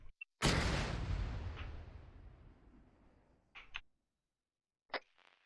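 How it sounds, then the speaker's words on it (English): An artillery shell from indirect fire explodes in the Arma 3 military game with a sudden loud boom that rolls off into a long rumbling decay, followed by a few brief crackling bursts. "Do you have any idea what that explosion was?"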